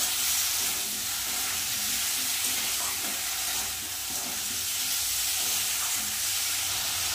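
A spice paste with turmeric and salt sautés in a pan for a mung bean and soya chunk curry, giving a dense, even hiss and sizzle like steam, close and continuous without voices.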